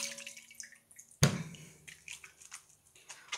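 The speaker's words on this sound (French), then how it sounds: "On va bien rincer les mains." Water rinses creamy soap off hands at a sink: a sharp, close splash, then scattered drips and light splashing that fade in and out.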